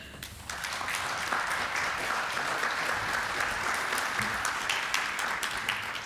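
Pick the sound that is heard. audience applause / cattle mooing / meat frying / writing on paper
audience applause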